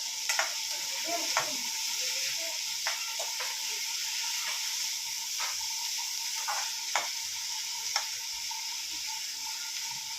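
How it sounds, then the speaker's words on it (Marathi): Masala paste for chole frying in a pan: a steady, close crackling sizzle runs throughout, punctuated by sharp scraping ticks of stirring at irregular intervals. "चांगला मऊ चांगला गाळ होत आपल्याला फ्राय करायचा आहे"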